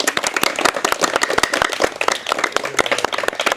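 Audience at an old-style Punjabi street magic show claps and applauds, a dense burst of sharp hand claps throughout, fairly close and lively, with no talk over it.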